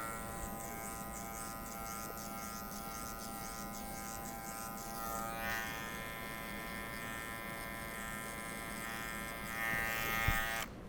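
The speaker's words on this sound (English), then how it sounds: "We're all done with clipper work." Electric hair clippers buzz steadily at close range while cutting a two-guard skin fade, a continuous motor hum with slight changes in pitch as the blades work through hair and a small bump near the end.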